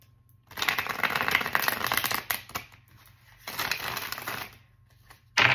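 Tarot cards being shuffled in two long riffling bursts with a short pause between, close and crisp, ending in a sharp tap.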